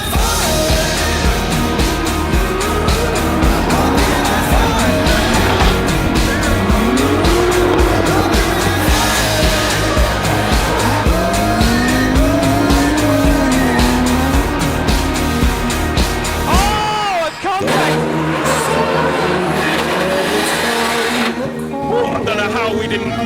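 Drift cars' engines roar continuously at close range during a drift competition while tires squeal in long rising and falling wails, then the noise briefly drops before resuming.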